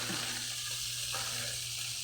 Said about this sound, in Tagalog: ating iprito lang naman yan